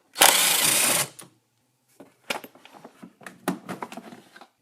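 A power tool spins out two 8mm bolts from a vortex cover on an engine: one loud, continuous whirring burst, then a series of shorter, quieter buzzes and clicks.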